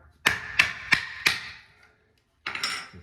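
A hammer taps a screwdriver to pry out a toilet flange test cap, four sharp metallic knocks in steady succession, close and loud with ringing decay, then a pause and a scraping clatter.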